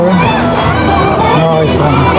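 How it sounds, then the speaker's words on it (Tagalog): A dense crowd fills Session Road in Baguio City, an unbroken close babble of many voices with scattered shouts and cheers, children among them, steady and loud throughout. "Crowds, nandun na sa ang crowd sa baba and still a lot more."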